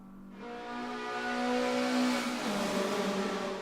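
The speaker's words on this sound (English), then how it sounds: "the Trumpet is definitely in contention for the best sounding car through that tunnel" A Mazda race car nicknamed the Trumpet roars through a tunnel, its engine a loud sustained tone that climbs steadily then drops slightly, with strong echoing reverberation and no talk.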